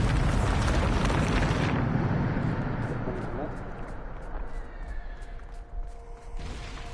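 A Bombarda explosion spell in Hogwarts Legacy goes off as a loud, dense blast that roars for about two seconds, then settles into a rumbling, crackling tail with scattered pops and a final swell.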